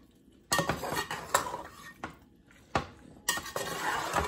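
A spoon stirs potato, fenugreek, carrot and pea sabzi in a pot in several separate bursts of metallic clanks and scrapes, loud and near, with short quiet gaps between strokes.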